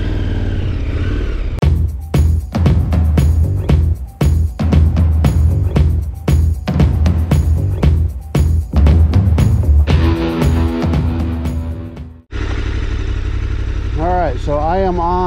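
A KTM 1290 motorcycle rides along a Michigan beach near Muskegon State Park, its engine giving a pulsing, rapid throb that rises and falls, loud and close, then cuts to a rider speaking.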